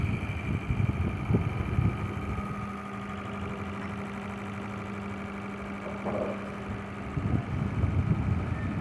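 2014 Honda Vezel hybrid engine idles after a tune-up with new GDI injectors fitted, a steady, fairly quiet mechanical hum with a faint ticking, nearby and without speech over it.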